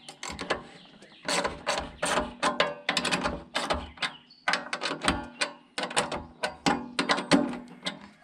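A wrench ratchets as a bolt is tightened on a solar street light mount, giving rapid, close clicking bursts in short repeated strokes with brief pauses between them.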